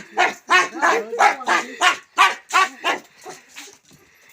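An excited dog barks and whimpers at close range in a rapid series of about ten yelping cries, each short and high, trailing off into softer whines at the end.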